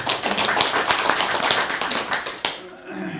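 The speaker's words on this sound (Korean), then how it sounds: "소개해 주신 우리 유창하 대표님께 박수 부탁드릴게요" A seated audience at an academic conference applauds a representative after a welcome speech, a dense, lively clatter of many hands that stops abruptly, leaving a quiet room with faint voices.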